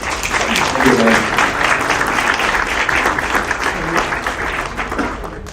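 Audience at a startup competition final round applauding an introduced guest, loud sustained clapping filling the room, with faint voices mixed in beneath it.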